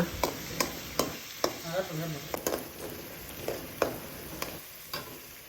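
Close-up sizzle of food frying in a pan until golden for chicken kottu, punctuated by regular clicks of a utensil stirring and scraping, with quiet Tamil talking underneath.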